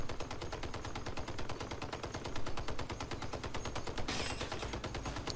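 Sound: gunfire from weapons in video game Crossout

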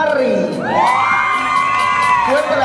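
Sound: audience applause and cheering at pageant

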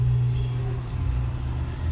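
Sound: engine of a 1994 Chevrolet Monza GLS idling

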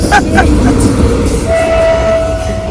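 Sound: train arriving at station

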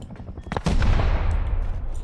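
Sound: gunfire and explosion in the video game Rust

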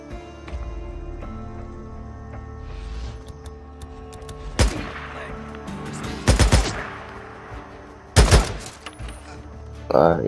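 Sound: silenced gunfire in Days Gone video game

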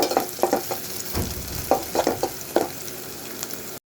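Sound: onions frying in a pan until brown

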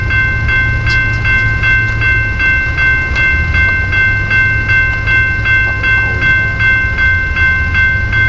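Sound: freight train passing

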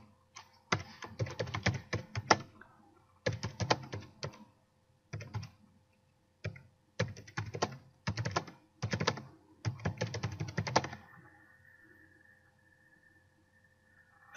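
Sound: typing a task description on a computer keyboard

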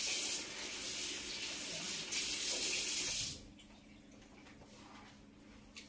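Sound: washing hands under running tap water

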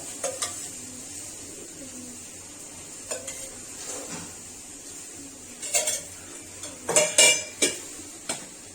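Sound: oil added to wok for frying soybeans

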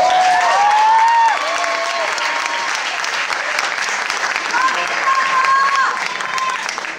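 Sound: audience applause after school talent show performance

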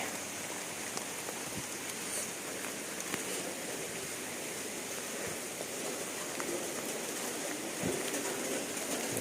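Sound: rain

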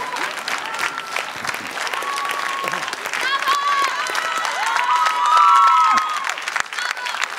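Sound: audience applause for a couple

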